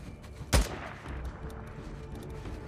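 In the video game Days Gone, a single sharp enemy gunshot cracks out loud and close, followed by a quieter, rumbling game ambience with faint scattered clicks.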